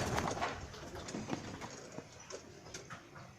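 Several pigeons coo and fuss while bathing and squabbling, giving soft repeated coos with wing flutters and scuffles at close range. Nobody speaks.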